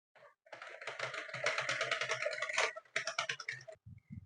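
A Sentro knitting machine is cranked through rounds of yarn for a reversible beanie. The crank gives a steady run of rapid, close mechanical clicks with a short pause near the end, and no talking.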